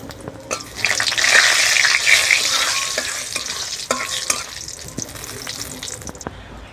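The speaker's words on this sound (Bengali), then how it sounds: "ফোড়নে দিচ্ছি তেজপাতা আর শুকনো লঙ্কা" Bay leaves and dried chillies hit hot oil in a kadai, giving an intense crackling sizzle that swells and then settles, with occasional utensil knocks. It sounds close, with no talking.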